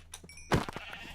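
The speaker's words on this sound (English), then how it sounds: "Brown sheep. Hi, brown sheep." A brown sheep in the video game Minecraft gives a short bleat, a single brief call over quiet game background.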